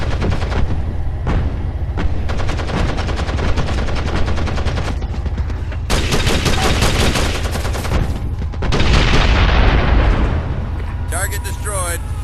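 Heavy gunfire in the tactical shooter Ghost Recon Advanced Warfighter: dense rapid machine-gun bursts and booming blasts come in loud clusters with brief gaps, a large explosion-like surge near the end, and voices speaking amid the firing.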